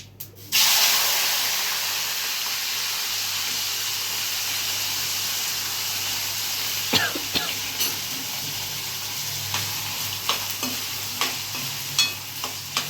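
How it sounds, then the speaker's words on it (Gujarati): Hot oil tempering with popped mustard seeds and asafoetida for a Gujarati potato curry bursts into a loud, steady sizzle as potatoes drop in, with scattered clicks and stirring scrapes toward the end; no one talks. "જો હાઈ ક્લાસ વઘાર આવ્યો."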